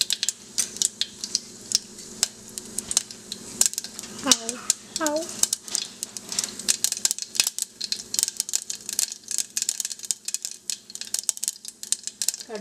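Half a teaspoon of mustard seeds crackles in hot oil in a pan, a dense run of sharp close pops and clicks scattered throughout, with brief voices and clinking utensils in between.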